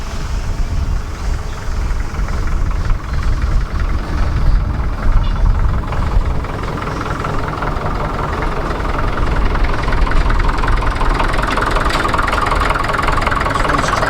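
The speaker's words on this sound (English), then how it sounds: "That's Ron's tractor you've seen in the past." A Ferguson tractor engine idles steadily in the countryside with a low, knocking rumble, continuous and fairly close, with no voices.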